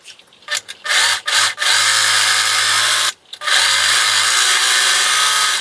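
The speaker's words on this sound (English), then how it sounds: "We're going to sew this seam with a 3/8 inch seam allowance and either a serger or a zigzag." A serger or zigzag sewing machine stitches a headband seam at close range, running in short whirring bursts with brief stops, then in longer continuous runs.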